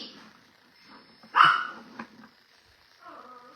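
A single sharp dog bark stands out from a quiet background, followed by a softer yip and some faint whining.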